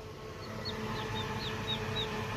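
A baby chick peeps in a short run of high, evenly spaced calls, about seven in quick succession, faint over a steady background hum.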